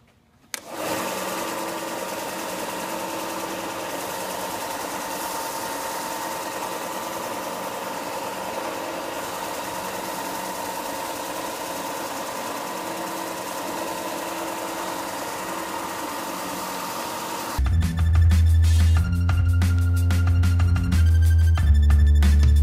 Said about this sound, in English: So let's head to the sander.